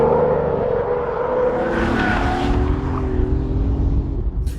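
A BMW i8's little three-cylinder engine drones and revs while the car drifts and slides around, a loud, close, buzzy note that swells and dips with throttle, with tire noise rising briefly midway.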